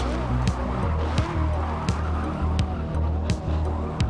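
A Pontiac GTO in the racing game Forza 7 slides through a turn, its engine droning steadily under continuous tire squeal and skidding, loud and close.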